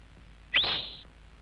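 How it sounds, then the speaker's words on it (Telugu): A single sharp rising whistle, about half a second long, sounds clearly from a person calling someone in an action scene, alone against a quiet background. "విజిల్ వేయనా?"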